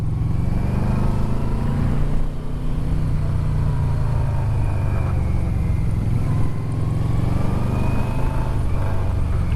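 Yamaha Vmax motorcycle engine pulling through the gears on a winding road, a loud close drone rising in pitch, dipping briefly around each shift, then climbing again, with wind rush over it.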